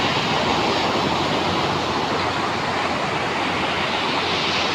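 Steady, dense wash of ocean surf rolling in where a surfer waits offshore, a continuous broadband roar with no distinct individual breaks, fairly close and unbroken throughout.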